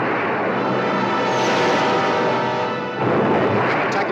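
Torpedoes launched from a submarine in the 1961 film Gorgo: a continuous loud, dense rushing roar that dips briefly and then surges again. No voices are heard.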